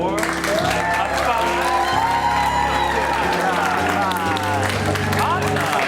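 Audience at an improv comedy show bursting into loud, sustained applause with whoops and cheering shouts, a dense close crowd sound that carries on for several seconds.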